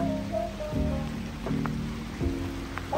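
Rain falls on a Luxembourg city street as a steady close patter, with a low tonal hum and a few soft thuds coming and going beneath it.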